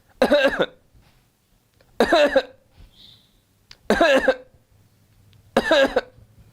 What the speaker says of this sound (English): So cough in two paroxysms